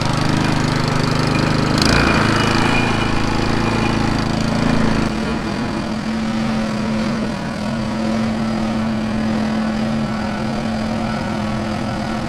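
A snow blower engine fires up with a loud rough roar and a sharp jolt, then settles into a steady close idle with a droning hum.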